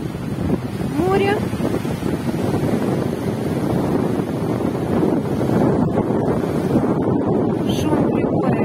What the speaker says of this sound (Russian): Шум прибоя, видите, какой?